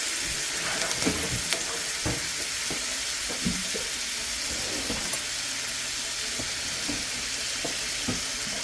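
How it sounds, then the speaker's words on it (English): Pan sauce of chicken drippings and shallots simmers and sizzles steadily in a pan, a constant loud frying hiss with occasional small pops and stirring taps, close by and without speech. "I'm going to let that simmer away for a moment."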